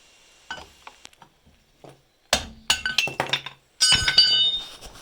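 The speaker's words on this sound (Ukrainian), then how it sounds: "Після того необхідно зняти захисний ковпачок гайки. Це робимо з допомогою зубила." Metal chisel strikes knocking the protective nut cap off a rear wheel hub of a Renault Scenic during a brake disc change, sharp clinking hits that start sparse and faint and turn into louder, denser bursts of ringing metal.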